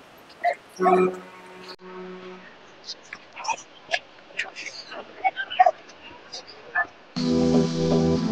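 A German shepherd puppy at a busy pet market gives short yips and whimpering barks, with people talking around it and a loud tonal burst near the end.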